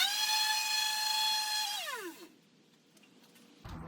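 A power sander whines steadily on a wooden farmhouse table, a high droning tone that drops in pitch as it winds down and stops, followed by quiet and a brief clunk.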